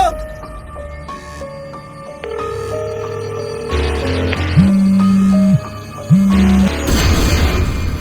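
A telephone rings twice in a Bangla drama scene, each ring a sustained electronic tone lasting about a second, loud and close over a busy room-tone and music background.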